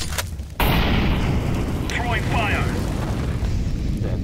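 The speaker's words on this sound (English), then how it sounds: "Throwing a grenade." Grenade going off in CS-GO, a sudden loud booming blast after a brief quiet, followed by a long roaring rumble with crackling debris and whistling effects.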